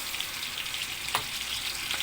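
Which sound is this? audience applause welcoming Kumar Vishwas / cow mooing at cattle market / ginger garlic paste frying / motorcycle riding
ginger garlic paste frying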